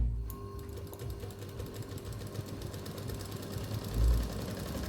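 A sewing machine stitching a lungi, a steady close mechanical whir and rapid needle chatter running continuously at an even pace, with no voices.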